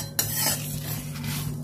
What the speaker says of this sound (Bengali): ভালো করে নেড়ে চেড়ে শুকনো লঙ্কা গোটা জিরেটা ভেজে নেবো